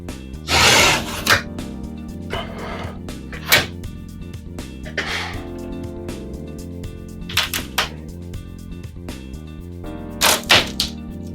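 A large wall sheet is sawn in half during basement demolition: scratchy, rasping hand-saw strokes come in uneven bursts with pauses between them, close and fairly loud, and no one talks.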